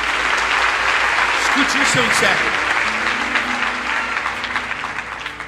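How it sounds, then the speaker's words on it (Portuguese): A church congregation applauds steadily throughout a worship service, a dense wash of clapping heard under a preacher who keeps speaking over it. "você vai aplaudir, aplaude com vontade"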